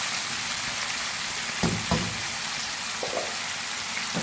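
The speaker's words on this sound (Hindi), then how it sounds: "चिकन हमारी दोनों तरफ से फ्राई हो चुकी है" Chicken pieces frying in hot oil, browned on both sides, give a steady close sizzle with a few brief louder pops as pieces are turned or stirred.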